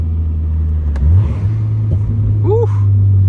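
A Toyota GR86 drones at steady revs close up, with an engine sweep around the middle and faint exhaust pops heard through an open window.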